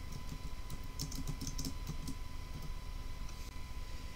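Computer keyboard keys clicking in quick uneven bursts while code is typed, close and fairly quiet over a steady low room hum, with no talking.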